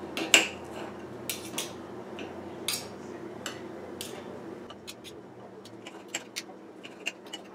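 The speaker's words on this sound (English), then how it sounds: "I'm gonna go ahead and start cutting up the meat and putting it into the containers" A knife cuts cooked pork into pieces for Chinese-style meal prep: a string of sharp clicks and taps of blade on board and dishes, irregular and close, with a low hum underneath.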